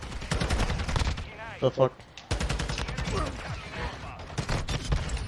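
Rapid bursts of automatic gunfire crackle through a Call of Duty Hardpoint match, loud and near, with a short lull in the middle while a player swears.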